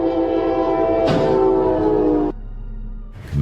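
A train sounds a loud, sustained horn at a rail crossing, one long chord followed by a second blast, then cuts off to rumbling rail noise before another burst of horn.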